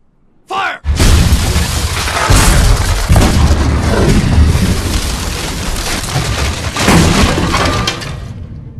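Cannon fire in a period film scene: a sudden loud blast followed by sustained crashing, rumbling barrage and debris for several seconds, with a voice briefly heard amid the din.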